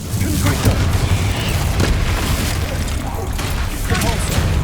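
Explosive Confringo spell blasts in the Hogwarts Legacy video game, sounding as dense booming crashes amid continuous loud combat noise with brief vocal bursts, several hits across the stretch.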